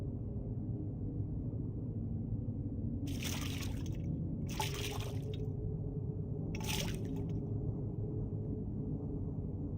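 Hands splashing in a water basin in the game The Black Mirror, three short watery swishes over a steady low room hum, fairly close.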